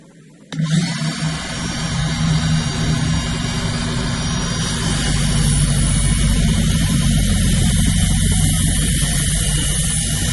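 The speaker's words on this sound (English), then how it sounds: "it's time to go cut some starboard for the first part" A power saw slicing through a StarBoard marine plastic sheet for a sliding boat helm hatch, starting abruptly and running as a loud, steady whine for about ten seconds, close by, with no talking.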